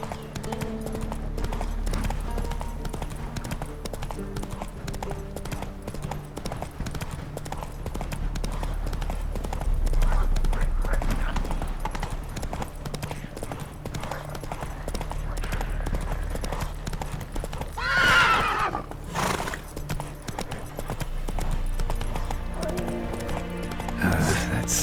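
The horse Roach from The Witcher 3 trots along with steady rhythmic clip-clop hoofbeats, then gives a loud whinny near the end, over a low droning game backdrop with faint voices.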